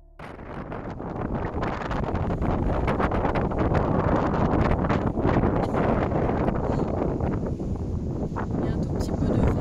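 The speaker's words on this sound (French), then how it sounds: "Il y a un tout petit peu de vent." A light wind blows steadily across the microphone on Tenerife, making a continuous soft rushing, buffeting noise from start to finish with no voices.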